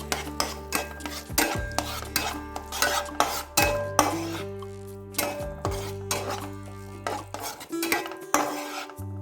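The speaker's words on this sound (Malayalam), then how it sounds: "നെയ്യ് ചേർത്ത് കൊടുത്തിട്ടുണ്ട് ഇനി നമുക്കിതൊന്ന് ഇളക്കിയെടുക്കാം" A spoon stirs ghee in a metal pan while making a pumpkin payasam with coconut milk. Loud, ringing clanks and scrapes of metal on metal come in a steady rhythm up close, with only a faint sizzle underneath.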